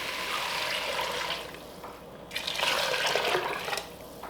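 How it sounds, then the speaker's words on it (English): About six cups of broth pour into a soup pot for a broccoli cheddar soup with potatoes: a loud, close rush of liquid in two long bursts with a brief lull between. "And then I'm going to add about 6 cups of broth."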